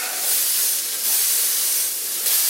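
Bean burger patties sear on a hot cast iron surface while a spatula presses them flat, producing a loud, steady hissing sizzle that swells in a few broad surges.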